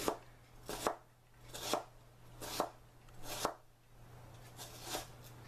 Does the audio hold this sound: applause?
no